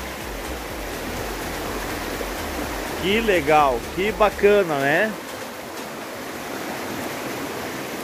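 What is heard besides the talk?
water running in a stream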